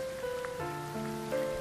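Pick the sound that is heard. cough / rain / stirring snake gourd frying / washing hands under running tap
rain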